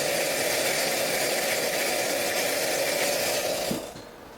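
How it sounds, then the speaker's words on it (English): An Odyssey Argos machine runs with a steady mechanical hum and rattle, then winds down and stops near the end, with no talk. "I'm gonna turn the machine off, let it cool off"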